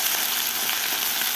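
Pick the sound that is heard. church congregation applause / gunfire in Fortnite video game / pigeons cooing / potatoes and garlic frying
potatoes and garlic frying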